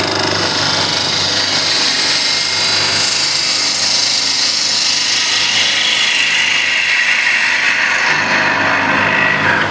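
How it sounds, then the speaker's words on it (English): A spindle gouge cuts very hard wood spinning on a lathe, giving a steady, close scraping hiss that runs unbroken for the whole stretch, with no voices. "I'll try to use a spindle gouge"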